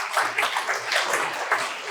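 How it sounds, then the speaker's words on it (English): An audience applauds at an annual business meeting, with a brief burst of dense, steady clapping from many hands in a hall. "they deserve a round of applause as well"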